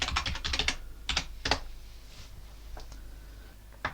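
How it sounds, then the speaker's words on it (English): A computer keyboard clatters as a password is typed during a Raspberry Pi 5 setup, with quick bursts of close keystrokes followed by a few scattered single taps. "and type in my password"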